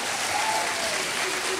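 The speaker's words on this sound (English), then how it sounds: "we should give both of our candidates a round of applause" Audience at a congressional candidates' debate at the University of the Pacific applauding, a steady dense patter of many hands clapping throughout, fairly close.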